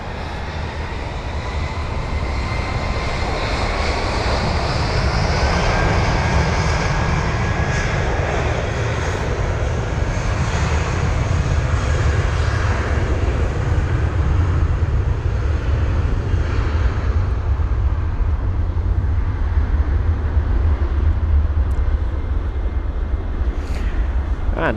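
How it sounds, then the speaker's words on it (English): A nine-year-old British Airways Airbus A320 departs London Heathrow for Paris CDG, its engines roaring loud and steady throughout with a broad low rumble and a slowly shifting whine, no voices. "this aircraft is 25 minutes later than expected for its departure, heading to Paris CDG"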